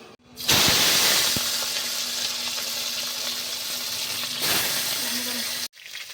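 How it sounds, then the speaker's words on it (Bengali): Fish pieces, head included, frying in hot oil in a village kitchen: a loud, steady sizzle runs almost without a break for about five seconds, with a few soft knocks near the start and an abrupt stop. "তো এই যে মাছগুলো আমি এখনকার ভেজে নেব।"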